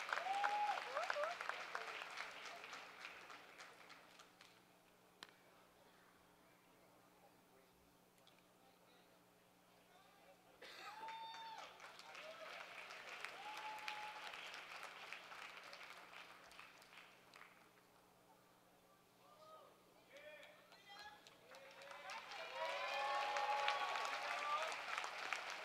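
Commencement crowd applause in a large hall, swelling in waves of many clapping hands, easing to a quieter lull midway, then rising again to a loud closing burst, with faint voices and cheers mixed in.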